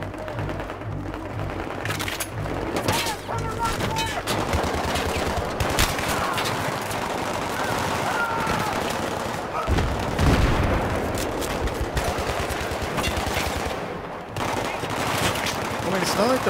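Light machine gun fire in Battlefield 3, sustained rapid bursts with booms and explosions layered in, loud and close, while voices call out over the battle.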